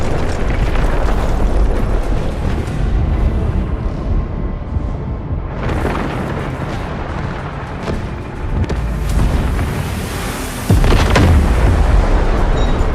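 Artillery barrage explosions in the video game Delta Force: continuous deep rumbling booms roll on for the whole stretch, with heavier blasts swelling around six and eleven seconds, loud and dense with no clear gaps.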